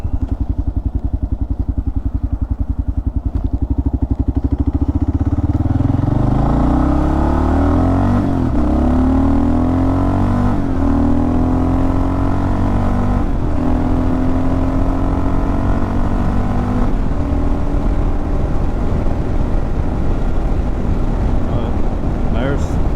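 A Kawasaki KLR650 motorcycle engine revs upward near full throttle, its low drone climbing in pitch through several gear shifts, close and loud under wind rush, with a voice speaking briefly.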